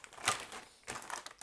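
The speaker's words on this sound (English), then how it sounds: "Here's the bag. Plastic bag. Nice plastic bag." A plastic bag from a Kyosho Turbo Optima re-release model kit crinkles as it is handled: a sharp crackle, a pause, then a longer run of rustling, close up and moderately quiet.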